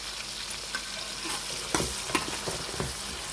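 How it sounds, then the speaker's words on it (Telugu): Tomato pieces frying in a pan after onions, a close sizzling hiss with a few sharper spoon scrapes and clacks, no speech. "ఇప్పుడు టమాటా ముక్కలు వేస్తున్నాను. ఇవి కూడా బాగా వేయించేసుకోవాలి."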